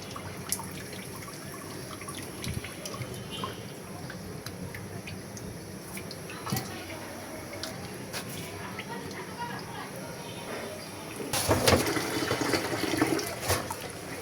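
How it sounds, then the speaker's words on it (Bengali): Freshly cut potatoes are rinsed under a running kitchen tap. A fairly quiet trickle and drip of water goes on under low background voices, then splashes louder for a couple of seconds near the end. "আলুগুলো কাটা শেষ, এখন ভালোভাবে ধুয়ে নিচ্ছি।"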